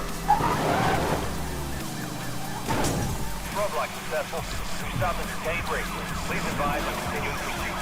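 Police siren wailing during a chase in the racing video game Need for Speed Most Wanted (2012), looping steadily behind engine noise and game effects while players talk over it.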